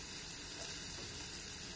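Fried rice sizzles steadily as it is sautéed in a pan, a faint, continuous crackle and hiss with no voices over it.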